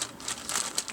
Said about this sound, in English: I wrap it in a plastic bag